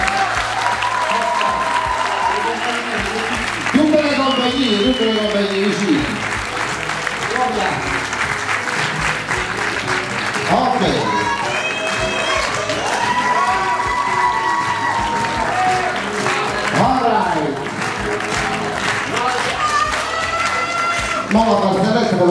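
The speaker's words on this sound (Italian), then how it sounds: "Un applauso al teatro amatoriale." Audience applause at a theatre festival of directing, dense sustained clapping filling the hall with some voices and cheering mixed in throughout.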